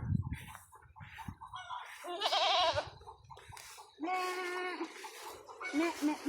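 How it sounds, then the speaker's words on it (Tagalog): Goats bleat at a farm, with several wavering cries rising over quieter background talk and some farmyard noise. "Daming goat. Daming goat sa agi."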